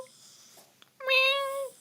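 A cat gives a single drawn-out meow, clear and fairly close, after a quieter stretch with faint background noise.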